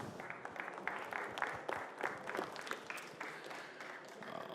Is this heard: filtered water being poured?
no